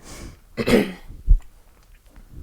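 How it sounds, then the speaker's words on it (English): A single person clears their throat with a rough, raspy burst, followed by a short low cough-like grunt, up close and otherwise quiet. "let me clear my throat here."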